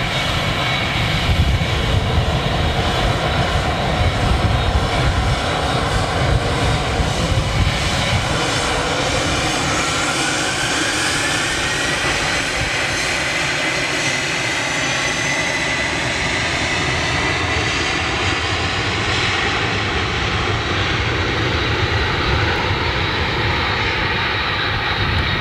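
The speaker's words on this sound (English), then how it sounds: "Oh, is that a 757 coming in? Sounds like RB211s." A TUI Boeing 757 with Rolls-Royce RB211 engines comes in to land at Manchester Airport, a loud continuous jet roar with a shifting whine that holds steady and close for the whole stretch, with no voices.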